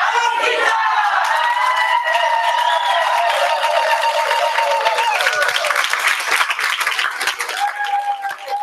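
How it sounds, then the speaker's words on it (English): A large audience at an African cultural showcase breaks into sustained applause and cheering, loud and continuous clapping with whoops and shouts throughout. "Can we get another round of applause for that?"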